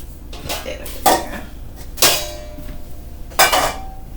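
Metal bundt pan and pound cake pan being handled in a home kitchen, three distinct clanks and knocks spaced a second or so apart, close and fairly loud, with faint rattles between.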